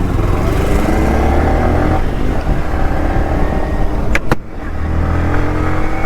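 A Yamaha RX 100 motorcycle engine runs steadily at close range, a continuous loud drone with a brief dip near the end, and no voices over it.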